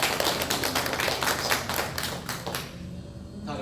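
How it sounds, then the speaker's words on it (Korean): A church congregation claps together during a Sunday praise service, a dense, steady burst of many hands that stays loud for about two and a half seconds before tapering off into a fading tail. "우리 네 분에게 우리 박수로 격려의 박수를 드리겠습니다."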